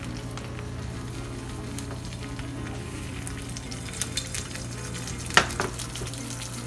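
An egg frying in a stone-coated non-stick pan over turned-down heat gives a steady, even sizzle throughout, with a few faint clicks and one sharper tap near the end.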